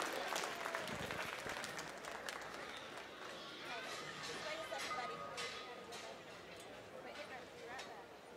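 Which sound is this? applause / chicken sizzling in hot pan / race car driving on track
applause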